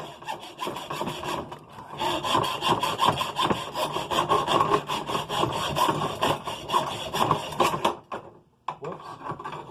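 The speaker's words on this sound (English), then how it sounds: "I could go to the hacksaw, right? And just hacksaw this thing off." A hacksaw cuts through tough metal on an air-conditioning unit for scrapping, a loud rhythmic back-and-forth rasp of quick strokes that falters briefly near the end, then resumes.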